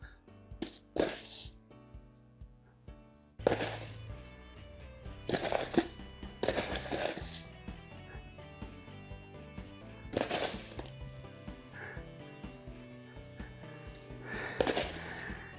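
Decorative paint chips scattered by hand onto a freshly coated concrete garage floor for a Rust-Oleum RockSolid coating, producing several separate bursts of light crackling patter against steady background music.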